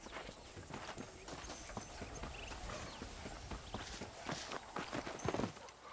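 Hooves of a horse clip-clop in a video game, a steady run of close, distinct hoofbeats with a brief flurry near the end, heard alone without talk.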